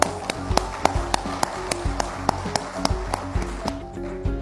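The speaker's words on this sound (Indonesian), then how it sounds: "tepuk tangan." An audience claps for Indonesia's agriculture ministers at an official gathering. Sharp, distinct claps come in a fairly even rhythm, a few per second, close and moderately loud over a low background hum.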